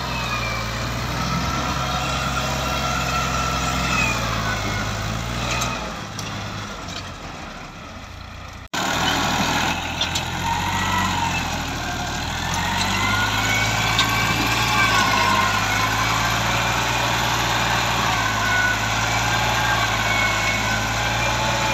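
A 1972 Fiat 480 tractor engine idles steadily with a low, continuous rumble and droning hum, briefly dipping before settling back to a constant chug.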